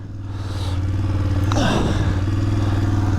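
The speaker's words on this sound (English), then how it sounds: "Listen to it roar into life." A 2022 BMW F750GS motorcycle engine idles with a steady low thrum that rises and holds at a louder, even level, with a brief clatter partway through.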